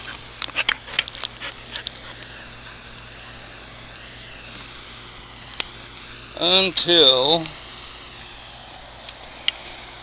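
A 10-year-old Labrador lets out one short burst of whining, yowling barks midway, loud and close, after some light clatter, with a person's voice nearby.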